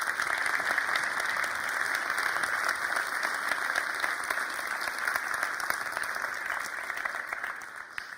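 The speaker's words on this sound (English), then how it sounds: "Give them an applause for the trust of it." A room full of attendees applauds a team at a Berlin gathering, a steady, moderately distant wash of clapping that holds evenly for about eight seconds.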